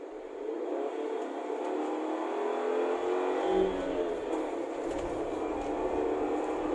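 Toyota Rush with a high-flow air filter accelerating hard in second gear from inside the cabin, a steady engine roar climbing in pitch with rising whir, loud and continuous with no talk.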